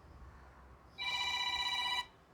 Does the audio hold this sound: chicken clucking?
no